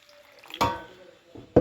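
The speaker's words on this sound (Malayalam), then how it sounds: "കുറച്ച് വെള്ളം ഒഴിച്ചു കൊടുക്കാം" Two short splashes of water poured into a pan of Kerala-style fish curry, about a second apart, with faint background noise between them.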